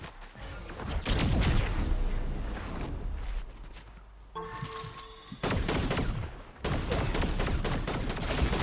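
Bursts of rapid gunfire from the video game Fortnite, dense volleys with brief pauses, loud and close with some distant shots in between.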